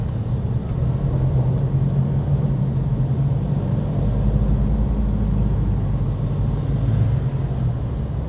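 A truck drives alongside on the road, its loud, steady engine rumble and low drone filling the scene without a break.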